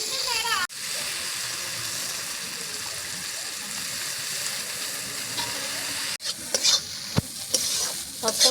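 Soaked lentils dropped into a hot pan hiss and crackle loudly, the sizzle cutting out briefly, then resuming with spoon scrapes and stirring clatter as the dal is moved around.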